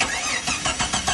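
A 1991 Jeep Cherokee with the 4.0 engine and an aftermarket muffler and exhaust cranks over in a few quick rhythmic pulses and catches, heard up close and alone.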